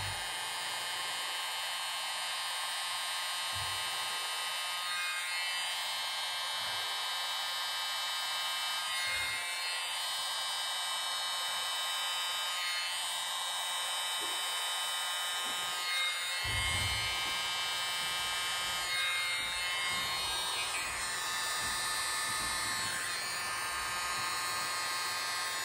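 An electric air blower runs steadily over resin dusted with cell activator, a continuous close buzzing hum that holds throughout with brief dips and changes in pitch.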